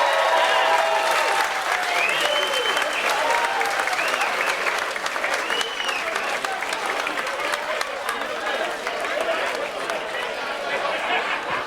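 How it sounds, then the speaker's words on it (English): A crowd cheers and applauds steadily throughout, with whoops and shouts rising over dense clapping at an outdoor summer event, the applause sustained and loud from start to finish. "So give a cheer, the Umbrella Club is here."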